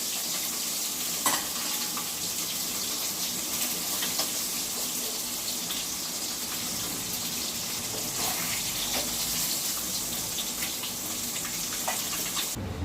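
Fish sizzling as it fries in hot oil, a steady dense crackle and hiss close by with occasional utensil clicks, continuous and without talk.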